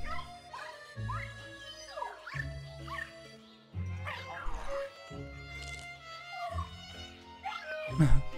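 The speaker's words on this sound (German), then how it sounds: "Macht der Hund." In the video game Luigi's Mansion 3, a cartoonish dog yips and barks in short bursts over tonal game music and shifting background effects, fairly faint and mixed into the soundtrack.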